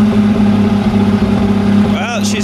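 Tractor engine at fast idle outside in snow during plowing work, a steady mid-pitched drone with a low constant hum, running continuously and close by with a brief fluttery sound near the end.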